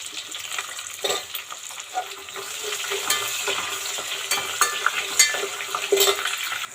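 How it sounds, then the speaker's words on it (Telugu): Onions frying in a pan for vegetable rice, a continuous crackling sizzle with scattered spatula scrapes and clicks, close and moderately loud, no speech. "మనకు ఆనియన్స్ మగ్గుతున్నాయి కదా"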